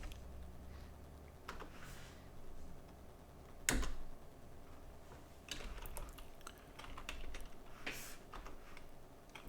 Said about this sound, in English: Can't just start typing that in.